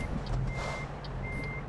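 In American Truck Simulator, a truck's reversing alarm gives slow, evenly spaced beeps over a low idling engine rumble. The alarm is steady and close.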